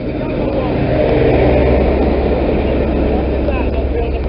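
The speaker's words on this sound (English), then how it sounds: "Here arriving now is a high-speed train" A GWR high-speed train (power car 43016) arrives at Exeter St Davids station, a steady loud rumble of diesel engine and rolling stock holding throughout with broadband roar.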